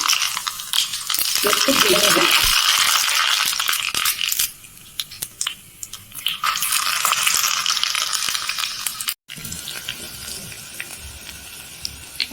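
Mustard seeds crackling and sizzling in hot oil for a dal tempering, a loud steady hiss with scattered pops up close, briefly dipping and cutting out before continuing, with no speech over it.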